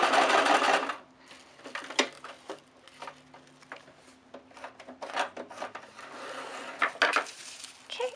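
A sewing machine back stitching through crepe paper for a ruffled craft project, with a steady rapid mechanical ticking and a whirring motor that surges at the start and end, close and clear, with no talking.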